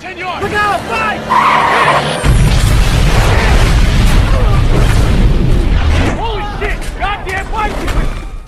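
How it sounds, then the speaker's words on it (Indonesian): In a heist film, a target car brakes suddenly right after a C4 blast, its tires squealing loudly over a heavy rumbling roar and a boom, with sharp skid screeches at the start and again near the end. "Namun ketika C4 diledakkan, mobil target mendadak mengerem karena ada pesepeda yang menyeberang tiba-tiba."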